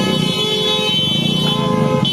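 Loud, close street traffic with car horns blaring in a steady, layered honking chorus over a rumbling engine bed, continuous throughout.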